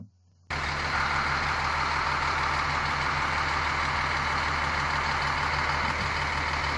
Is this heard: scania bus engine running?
yes